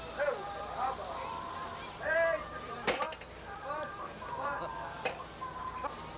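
A chicken clucks in a short series of bright, choppy calls, close and moderately loud, against a faint background.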